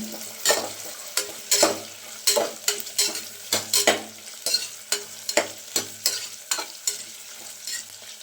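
Paneer biryani mixture sizzling in a frying pan as it is stirred, with a rhythmic series of scraping strokes roughly every half second over a steady background hiss, close and moderately loud.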